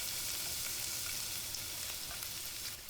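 Crushed garlic sautés in oil in a wok for adobo fried rice, giving a soft, even, continuous sizzle with faint crackles and no voices.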